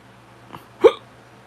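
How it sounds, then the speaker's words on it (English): A single sharp hiccup, close and alone, comes just after a faint softer catch of breath. "I got hiccups."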